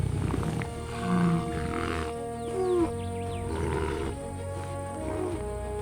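A lion on the savanna gives low, rumbling roars and grunts in several bursts, moderately loud and fairly close, alone without voices.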